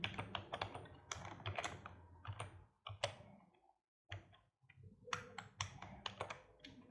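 Computer keyboard typed on while writing Arduino code for a seven segment display counter: close, crisp clusters of key clicks in quick bursts, separated by brief pauses and a moment of silence.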